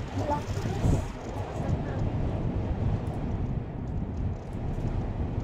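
Strong wind roars and buffets the microphone in a steady, loud rush that lasts throughout, aboard a cable car in Hong Kong.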